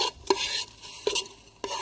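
Eggs fry in a new pan on a camping burner at a campsite, a soft steady sizzle punctuated by three scraping stirs of a utensil against the pan, close and quiet with no talking.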